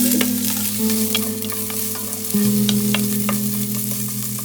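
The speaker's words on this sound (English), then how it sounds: "So first I'm going to put cumin seed. Fry a little bit. Then I'm going to add the sliced onion." Cumin seeds and sliced onion fry in hot oil for an Indian-style soup, a steady close sizzle with stirring scrapes and occasional sharp ticks, no voices over it.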